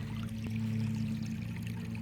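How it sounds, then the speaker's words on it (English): Spring-fed floodwater rushes across a gravel road during Nebraska flooding, a steady pouring roar of water running without pause and with no talking. "Water is actually coming up out of the middle of this gravel road, and all the water that you see rush here is from that spring."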